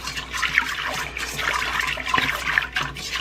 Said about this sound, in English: I'm going to give this a stir. Wake up that yeast in there.